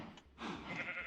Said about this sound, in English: We've got the sheep here